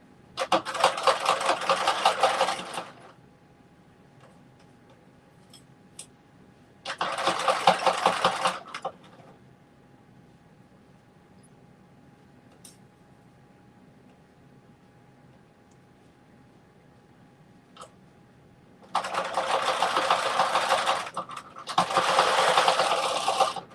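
A sewing machine stitches over a thick part of a fabric mitten in several loud whirring bursts of two to three seconds each, separated by quiet pauses.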